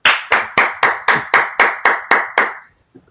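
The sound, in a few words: audience applause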